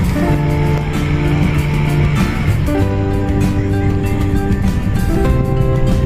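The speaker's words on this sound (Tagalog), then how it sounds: "Yun paalis na yung parang tunog ng truck yung makina ng mangka." A large, heavily loaded fishing boat's engine pulling away, a loud, steady, truck-like diesel drone whose pitch shifts slightly as it moves.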